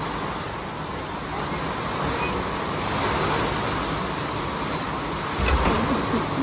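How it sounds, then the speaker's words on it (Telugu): Heavy rain roars in a dense, steady wash of noise, with gusts of wind and a brief low thump near the end. "ఇంత వర్షము వానకాలంలో కూడా రాదు"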